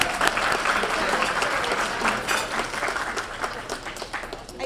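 An audience at a school district awards ceremony applauds with sustained, dense clapping that stays loud and then gradually thins toward the end.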